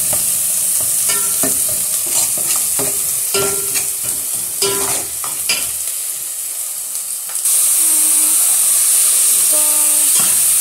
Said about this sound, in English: Onions by frying them in oil until they are golden brown.